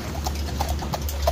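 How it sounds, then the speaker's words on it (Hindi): A mare walking toward town makes sounds over a steady low background hum, with faint, soft hoof clip-clops spaced irregularly through the short stretch and no clear talking. "ये घोड़ी चिल्ला रही है, ये इसलिए आवाज़ कर रही है"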